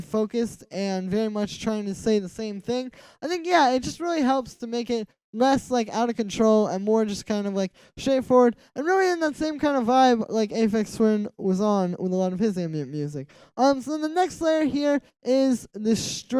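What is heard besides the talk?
No everyday noise stands out behind the speech.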